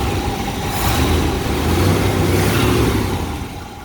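A rebuilt V8 in a 1966 Corvette roadster, Nassau Blue, running loud and close with a steady rising rumble over about four seconds, its revs swelling mid-clip then easing slightly toward the end; no one talks.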